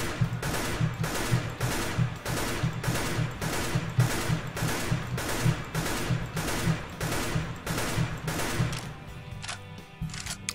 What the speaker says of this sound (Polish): Trzeba nauczyć się przystawać na momencik i w tym ułamku sekundy oddać strzał.